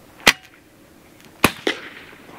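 A BIN TAC S45 semi-auto PCP air rifle fires three sharp, close cracks. The first stands alone and the last two come quickly together, each with a brief ringing tail, and no talk.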